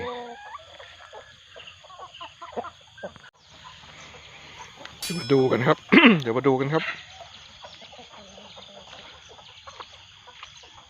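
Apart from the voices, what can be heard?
chickens clucking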